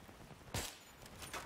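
A single sharp gunshot in the Battlefield 3 campaign, standing out once against a quiet game background.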